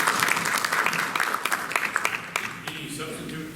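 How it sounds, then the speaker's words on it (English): Board of Education meeting attendees clap together in a room, a steady patter of hands that thins out and fades toward the end, with some voices mixed in. "We'll clap now."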